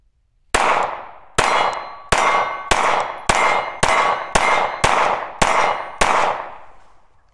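A Dan Wesson DWX pistol fires ten sharp shots in a steady rhythm at a range, each crack followed by a ringing clang from steel targets, loud and close with no talking.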